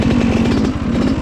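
A Yamaha YZ125 two-stroke motocross engine buzzes close by on a test ride after a rebuild, a raspy, rapidly pulsing high-revving drone with no pauses.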